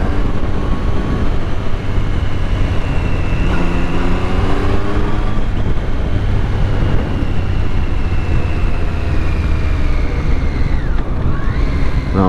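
Triumph Street Triple motorcycle ridden on roads near Bolton: a steady engine drone with shifting pitch as the bike changes gears, heavily masked by constant loud wind buffeting the helmet microphone throughout.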